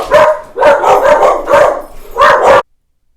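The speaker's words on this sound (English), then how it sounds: "I just had to put my dogs in their kennels. They were freaking out." Pet dogs bark at neighborhood dogs being walked past: four loud, close bursts of rapid barking, then a sudden stop into silence.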